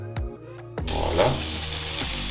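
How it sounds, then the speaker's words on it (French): Onions sweating in a little olive oil in a hot pan give a steady, close sizzle that starts abruptly after a couple of soft knocks and carries on evenly to the end. "On va faire suer nos oignons. Un tout petit peu d'huile d'olive."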